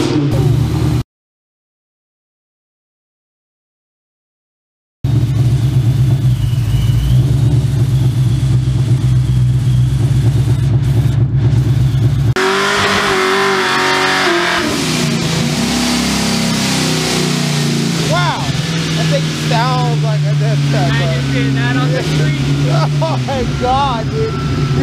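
A turbocharged, methanol-injected Honda Civic with an R18 engine revs loudly and roughly, its engine note rising and falling steadily at close range while people talk over it.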